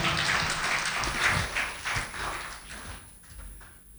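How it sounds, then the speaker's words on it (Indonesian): A church celebration congregation claps for young performers, a loose scattered patter of hands that fades away toward the end. "sekali lagi tepuk tangan buat adik-adik kita"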